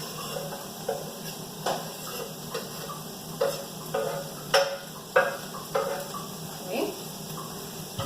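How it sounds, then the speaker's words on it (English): Garlic goes into a pan of translucent onions that have been frying for a few minutes, giving a quiet, steady sizzle broken by soft stirring scrapes and clicks of a utensil against the pan. "my onions are translucent now. So I'm going to add my garlic."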